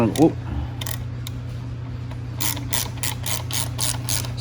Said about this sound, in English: gonna tighten these bolts up